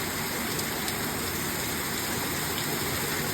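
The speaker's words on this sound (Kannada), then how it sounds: "ಮಳೆ ನಿಲ್ಲುವುದಿಲ್ಲ" Dense, constant roar of heavy rain pouring down on sheet roofing, loud and unbroken throughout.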